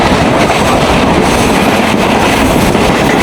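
The Bonolota Express, a passenger train bound for Rajshahi, rumbles along on its rails with a loud, continuous roar and rhythmic clatter, heard up close from on board.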